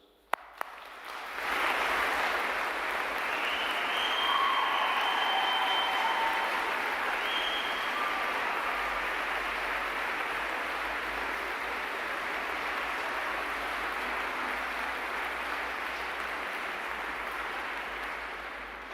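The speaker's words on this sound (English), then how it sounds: "show our appreciation of the unwavering commitment of all our staff with a round of applause" Sustained audience applause fills a university graduation ceremony at the University of Chichester, a broad, steady wash of many hands clapping that swells quickly and holds evenly for the whole stretch.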